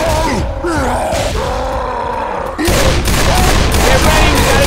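Gunfire aimed at the Tank in Left 4 Dead 2, a dense, continuous burst of shots with grunting mixed in, loud and close throughout and growing heavier in the second half.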